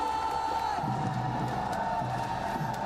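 A large esports arena crowd at a PUBG Mobile World Cup grand final cheers and roars continuously, loud and sustained, with whoops rising over the din.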